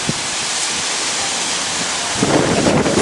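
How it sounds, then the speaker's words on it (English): Steady broadband wind roar buffets the microphone on a hilltop garden, growing stronger and gustier toward the end, with no voices. "It's getting super windy out here."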